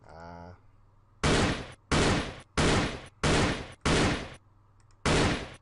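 Six loud, evenly spaced single shots from an SG552 rifle in a sound-effects gun pack, each a sharp full-band blast with a short tail, following a brief tonal beep at the start.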